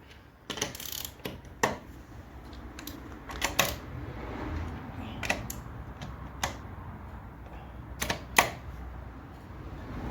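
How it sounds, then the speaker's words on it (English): A wrench gives a car's wheel nuts a final tightening, making a series of sharp, close metallic clicks and ratchet ticks at irregular intervals over a quiet background, with no talking. "And then give them a final tighten up."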